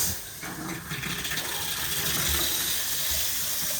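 A tap runs after a plumbing fix for poor water pressure, starting softly and then settling into a loud, steady gush of water with no talking.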